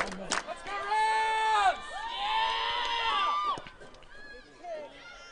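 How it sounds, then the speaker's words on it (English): A crowd at Sessions Field cheers and chants loudly to lift the CIU Rams in the last minute of regulation, with sustained voices and horn-like tones rising and falling over about five seconds. "the crowd at Sessions Field trying to hype their team up"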